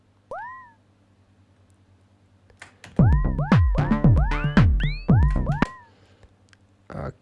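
Quirky sweeping synth chirps from a Syncussion SY-1 drum synthesizer, a lone rising-falling blip followed by a dense run of rapid swooping tones, loud and close.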